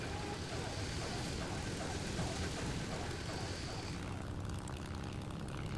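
A propeller aircraft engine in the video game War Thunder drones loudly and steadily, then its tone thins and dulls near the end as the engine loses power.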